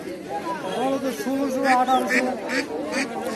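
Ducks quack repeatedly at a busy poultry market where geese are also sold, their calls mixed in among steady talking from nearby people.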